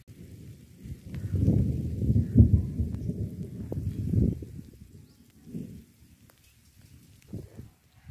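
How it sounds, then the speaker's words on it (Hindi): Heavy rain falls over a village under dark clouds with trees swaying in the wind, heard as irregular gusty rushes and low rumbling swells that rise and fade, moderately faint, with no speech. "ये देखें माशाल्लाह बहुत ही अच्छी बारिश हो रही है।"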